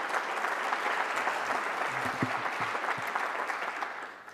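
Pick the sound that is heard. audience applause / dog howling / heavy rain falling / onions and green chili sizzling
audience applause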